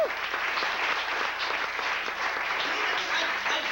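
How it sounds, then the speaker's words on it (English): A stand-up comedy audience claps for a comedian: dense, steady applause from a crowd filling the whole stretch at an even level, no talk over it. "so let's give him another hand"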